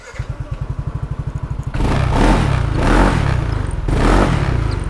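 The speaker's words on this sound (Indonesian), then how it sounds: "Sekarang ini motor udah kerakit semua dan sudah nyala. Nyalanya kayak begini." Rebuilt Yamaha Nmax 200 cc scooter engine starts from a steady ticking idle, then roars up with repeated loud revs that rise and fall, close by and alone.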